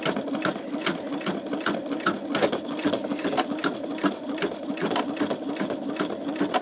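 An older, roughly ten-year-old embroidery-style sewing machine stitches a greeting card, its needle chattering in a fast, steady, rhythmic whir that stays close and continuous with no talk over it.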